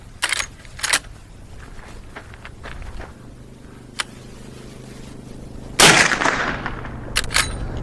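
Suppressed .45-70 Government rifle fired with full power loads through a .46 caliber can, sharp cracks at the start and a louder single report near the end, outdoors with some handling noise between.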